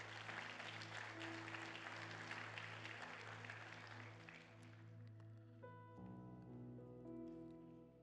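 A church congregation claps together as an offering of applause to the King, a dense, sustained wash of hands filling the hall with steady music playing underneath.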